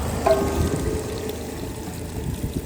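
Water gushes from a motor pump outlet in a continuous, steady pour, close and moderately loud with no talking.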